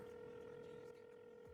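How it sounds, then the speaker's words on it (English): A steady phone dial tone plays in a GTA roleplay game, holding constant and faint for a brief moment before cutting off near the end. "All right, let's dial him again."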